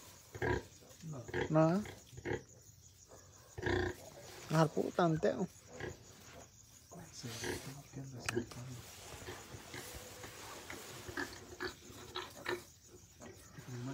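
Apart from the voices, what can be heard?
pigs on a ranch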